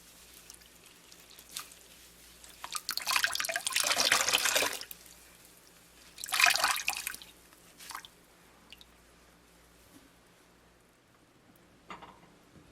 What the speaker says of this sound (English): Try to get as much of the soapy water out of it. Just squeeze it.